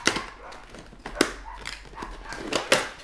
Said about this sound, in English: You guys can hear all the neighborhood dogs barking and braying in the backyard today.